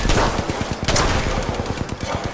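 Video game gunfire from a Kraber sniper rifle, heard as repeated sharp loud reports amid a dense barrage of other shots, close and punchy throughout.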